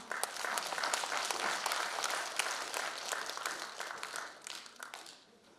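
A crowd at a lawmaker's constituency report meeting in Jungnang-gu claps steadily in a dense, sustained round of applause that tapers off toward the end.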